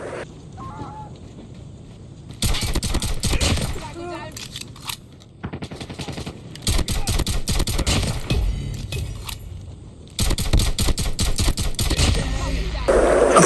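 Pistol fire in a video game comes in loud, rapid runs of shots lasting several seconds each, separated by brief pauses, with speech heard between the runs.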